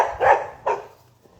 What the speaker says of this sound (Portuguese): aqui a cachorrada é boa